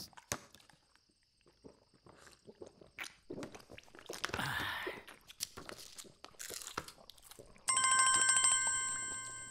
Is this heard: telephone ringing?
yes